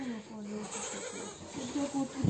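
Young goat kids bleat in short, nasal cries at close range, with a voice talking over and between them.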